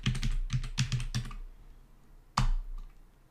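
Password keystrokes on a computer keyboard during a Linux terminal install: a quick run of close, crisp key clicks, a pause, then one louder keystroke, likely the Enter key, with no talking.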